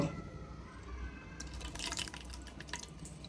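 Milk is poured into an egg mixture for caramel pudding, a steady trickling and dripping of liquid, close and soft, with no voices.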